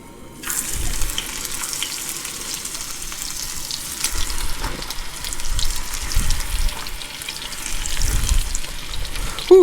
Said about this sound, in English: stove is hot, so these fish are gonna cook fast.